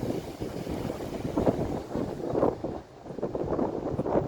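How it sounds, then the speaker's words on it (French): Wind blowing by the sea under a clear sky, a loud steady gusting rush with dense buffeting against the microphone that briefly eases before it picks up again, with no talk. "Et vous entendez le vent d'ailleurs."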